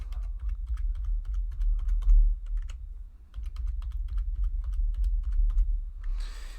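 Rapid clicking keystrokes on a computer keyboard while a password is entered come close and distinct in two bursts separated by a short pause, with a low hum underneath.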